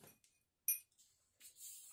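A can of Mountain Dew Baja Point Break Punch pops open with a sharp, close metallic crack, then a soft fizzing hiss rises and lingers. No one speaks.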